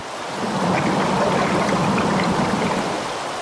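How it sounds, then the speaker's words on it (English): Water of the upper Jordan River rushes and bubbles as a steady hiss that swells slightly and holds, close and fairly loud, with no voices. "A bubbling waterway fed from streams here in Israel and from Syria and Lebanon"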